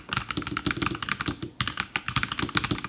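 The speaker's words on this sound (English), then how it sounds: "The typing experience has been wonderful so far." Close, crisp keystrokes on a NuPhy Halo 75 mechanical keyboard, a quick irregular burst of clacky taps with one short pause midway, heard alone.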